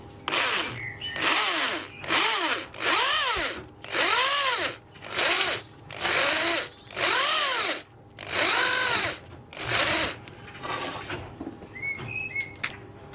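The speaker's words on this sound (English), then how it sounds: "Drill down until you've just taken the top off the first surface" A power drill with a flat wood bit whines loudly in repeated bursts, pitch sliding as it bites into plywood, with short pauses between runs and faint bird chirps near the end.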